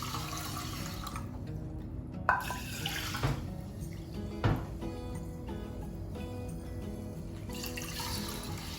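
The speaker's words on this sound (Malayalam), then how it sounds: "കൈ കൊണ്ട് നമുക്ക് ഇത് അരിച്ചെടുക്കാം." Horse gram being rinsed and sifted by hand in a vessel of water, with gentle splashing and running water throughout and a few sharper clinks and sloshes, close by and moderately quiet.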